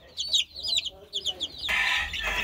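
Chickens cluck and chirp in short bursts, followed by a burst of broadband rustling noise near the end.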